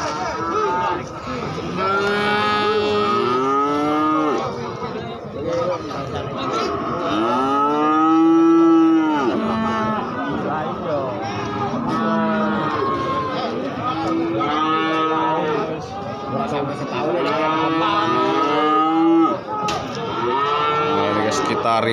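Cattle lowing at the Gorang Gareng livestock market in Magetan, with many overlapping moos from several animals, some close and loud, repeating throughout over a steady crowd murmur.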